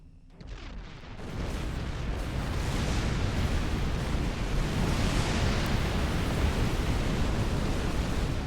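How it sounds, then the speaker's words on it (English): A factory blown up in Star Trek Online: a sudden explosion erupts after a second and settles into a long, loud, steady roar of rumbling debris that fills the rest of the clip. "Time to blow up some more stuff. Literally. Detonate. Kaboom."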